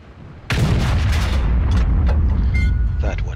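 A single heavy SU-152 tank gun shot in a video game, one loud, sudden boom followed by a long rumbling tail and debris, with fainter distant cracks after it.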